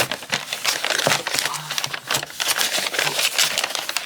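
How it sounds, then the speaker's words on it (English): A colouring pencil is turned in a sharpener at close range, producing a rapid, gritty crunching and scraping that repeats in short uneven bursts. "I'm going to sharpen my pencil."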